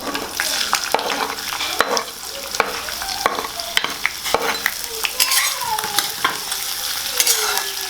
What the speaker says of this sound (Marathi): आता हे छान असं गोल्डन ब्राऊन होईपर्यंत भाजून घ्यायचं आहे आपल्याला